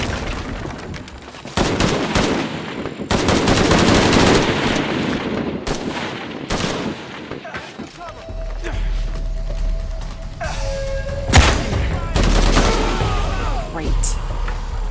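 Soldiers fire guns in the video game Shadow of the Tomb Raider: loud bursts of rapid gunfire in clusters, with shouted voices over the shooting and a mechanical hum later on.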